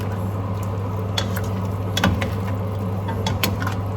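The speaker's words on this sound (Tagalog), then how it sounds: "Saka natin haluin ulit" Chicken neck adobo simmering in a pan, a low steady bubbling hum with scattered light scrapes and clicks of a stirring utensil, close and fairly quiet, no speech.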